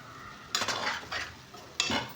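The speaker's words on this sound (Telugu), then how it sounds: "ఇలా శుభ్రంగా కలుపుకొని ఒక రెండు నిమిషాలు మనం మూత పెట్టి మగ్గించుకోవాలండి" A spoon stirs stuffed brinjal curry in a cooking pan, giving two or three short scraping, clattering strokes over a faint background hiss.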